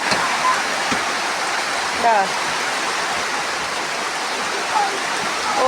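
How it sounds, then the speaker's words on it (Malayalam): Heavy rain pours down in a steady, dense hiss, loud and continuous, with a few faint bird chirps behind it. "അതേ കണ്ടോ, പുറത്ത് നല്ല മഴയാണ്, നല്ല മഴ."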